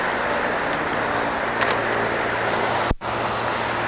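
A single car passes on a road amid steady traffic noise, with a brief swell in the middle and a sharp transient near the end; no talking.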